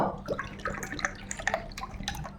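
About a cup of water is poured into a semolina and mashed potato mixture to make a paste, giving close, soft splashing and dripping sounds that continue steadily.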